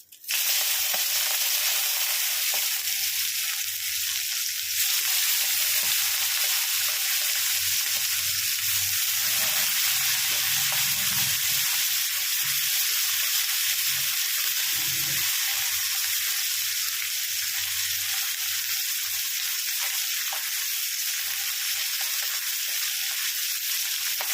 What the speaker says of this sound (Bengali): এটাকে একটু কড়া করে ভেজে নিয়ে ফিরছি